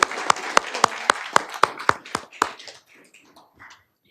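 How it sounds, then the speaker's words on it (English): A small audience at a school board meeting claps in a brief run of sharp, evenly spaced strokes that fade out after a couple of seconds, leaving quiet room noise. "But we give you all a round of applause."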